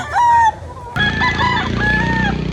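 Gamefowl roosters at a farm crow loudly nearby in overlapping calls, with clucking in between.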